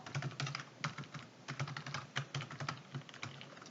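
Keys clatter in quick irregular bursts on a computer keyboard while a spreadsheet is filled in, with Tab and Alt+Enter presses mixed into steady close typing and no talk.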